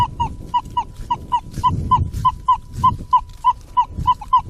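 Target tone from a Nokta Legend 2 metal detector during a live dig in rough ground, a steady run of about twenty short, clipped beeps in a quick, slightly uneven rhythm, close and clear over low rustling and handling noise.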